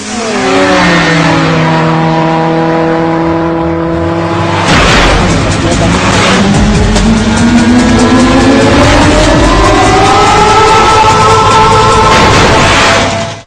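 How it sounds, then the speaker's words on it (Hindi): An air-powered motorbike runs along a road, its motor tone rising and falling in loud, smooth sweeps over a rough rumbling background, with talking mixed in. "ये सवारी सड़क पर फर्राटे से दौड़ेगी।"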